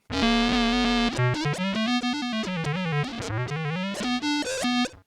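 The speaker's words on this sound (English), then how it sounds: "we get a lot of that high-end glitching, which is really normal" Bright, buzzy synthesized violin tone from an electric violin through an audio-to-synth converter, with distorted harmonics and shifting bowed notes, a continuous melodic line with glitchy high-end artifacts throughout.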